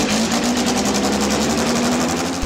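A BMW 2002 race car in Ti-spec conversion idles close by with a loud, steady engine drone and a fast, even pulsing throb that holds throughout.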